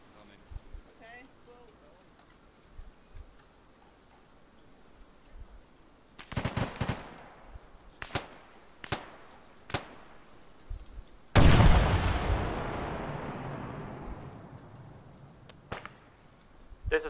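Gunfire in ArmA 3, quiet at first, then sharp separate cracks of sniper-like shots, followed by a loud blast or heavy burst that trails off, with more scattered shots after.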